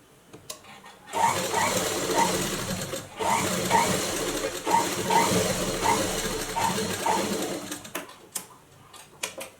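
A sewing machine stitches a blouse hook strip, running in a steady close whir with rhythmic needle ticks. It starts after about a second, pauses briefly partway through, then resumes and carries on to near the end.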